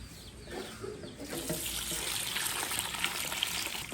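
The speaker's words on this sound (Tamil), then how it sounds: "முதல் இந்த அரிசியை கழுவி நனைய விடுவோம்." Rice for puttu is washed in a sink or bowl under running water, giving a steady close splashing and trickling that builds after the first second, with faint birdsong in the background.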